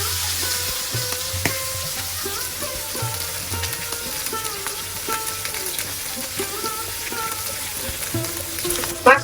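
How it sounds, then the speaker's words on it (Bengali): Rohu fish pieces frying in hot oil after being flipped, a steady close sizzle throughout with occasional scrapes and stirring clinks, and a sharper clatter at the very end. "এখন আমি ওই পাশটা এইভাবে ভেজে নিব লাল লাল করে"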